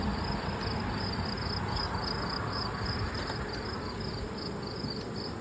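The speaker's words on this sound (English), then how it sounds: "We've got a fair number of bees on the top here." Honey bees buzzing over the tops of beehive honey supers during a honey flow, a steady close hum with a faint high drone, continuous and even throughout with no talking.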